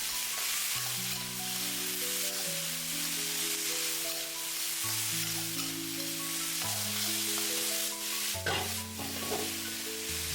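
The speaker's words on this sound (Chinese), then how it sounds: "快速翻炒均勻" Sliced bitter melon, seasoned with salt and sugar, sizzles and scrapes as it is tossed quickly in a hot wok, with steady frying hiss under soft background music.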